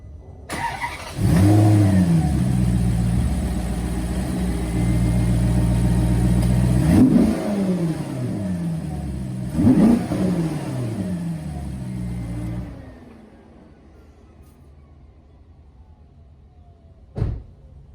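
Maserati engine revving before repair work, a steady loud idle with two sharp throttle blips rising and falling, then cutting off into near silence with one brief knock near the end.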